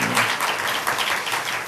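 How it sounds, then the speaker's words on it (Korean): Applause from a church congregation during a Wednesday evening service, a short burst of steady, dense clapping filling the room with no voices over it. "격려의 박수 한번 해주시길 바랍니다"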